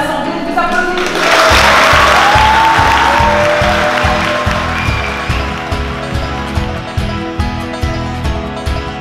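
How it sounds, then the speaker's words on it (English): Wedding guests break into sustained, dense applause for the newlyweds at a civil ceremony, the clapping swelling quickly and continuing steadily up close, with faint music or voices underneath. "Je vous en félicite et demande à l'Assemblée de vous applaudir."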